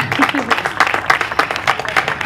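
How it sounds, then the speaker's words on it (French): Audience applause at an outdoor festival talk stage, scattered claps under a voice, moderately close and uneven as the crowd welcomes a guest. "vais tout de suite appeler Eric Lablanche, vous pouvez les applaudir à venir nous rejoindre"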